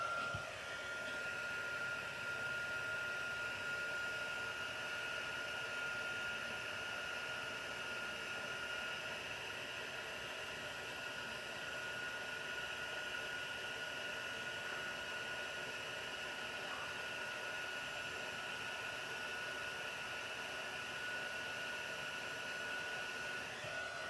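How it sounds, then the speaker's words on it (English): A plug-in heat tool blows hot air steadily over freshly stamped ink on cardstock, a continuous loud rushing whir with a faint whine that holds for the whole stretch, no talking. "my heat tool"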